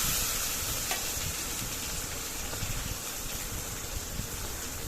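Cut, squeezed bitter gourd pieces sautéing in hot tempered oil in a pan, giving a steady, close, broadband sizzle with faint stirring clatter and no voices.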